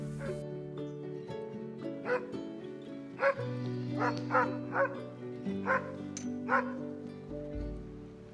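Sled dogs in winter at Denali National Park give a chorus of yips, barks and whimpers, scattered calls at moderate distance over a steady background hum.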